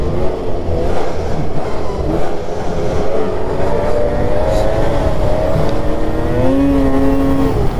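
Starfire 862cc stroker engine, likely in a snowmobile riding in Canada, revs hard and holds a loud, steady high-rpm drone near 8150 rpm, with the pitch climbing and wavering under load, close and without talk.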